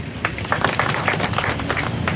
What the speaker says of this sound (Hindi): तालियां बजाए।